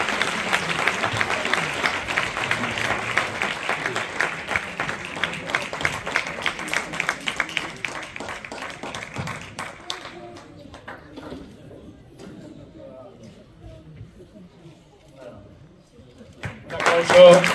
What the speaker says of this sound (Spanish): Un aplauso, por favor, para los... para ellos, Domingo Esteban.